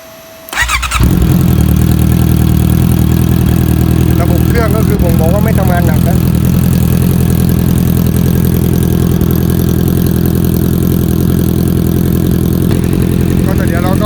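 A three-year-old Honda CBR650F motorcycle with about 32,000 km, just after an oil and filter change, starts up and settles into a loud, steady idle close by, with a brief voice faintly heard partway through.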